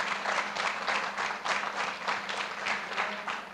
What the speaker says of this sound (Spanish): Démosle un aplauso a nuestro Rey.